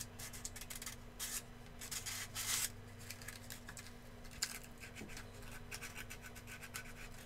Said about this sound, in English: I'm sanding the flared magazine wall.